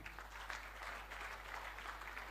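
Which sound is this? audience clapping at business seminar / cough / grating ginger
audience clapping at business seminar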